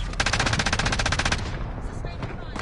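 Loud, rapid automatic gunfire in an online shooter video game, a dense burst of shots for over a second, then fading into softer game noise and scattered distant effects.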